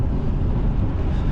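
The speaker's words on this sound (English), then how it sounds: "It's kind of windy at the moment actually," Steady wind buffets the microphone outdoors in the early morning during a long-distance bicycle ride, a dense continuous low rumble with no voices.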